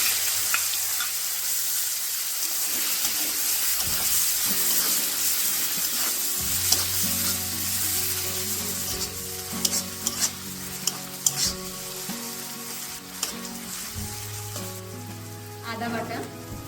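Chopped onion, cumin and whole spices fry in hot oil for a tuna curry, giving a steady, loud sizzle with stirring clatter and occasional utensil knocks throughout.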